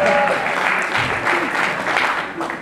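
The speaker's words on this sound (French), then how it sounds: "une foule qui applaudissait" A crowd applauds at a film festival awards ceremony, steady dense clapping throughout with faint voices mixed in.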